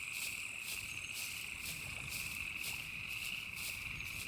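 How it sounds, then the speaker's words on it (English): Frogs and insects chorus nonstop around a pond at night in the survival video game SCUM, a dense, steady high trilling with pulsing croaks, loud and unbroken with no talk. "All I hear when I come here is flipping frogs."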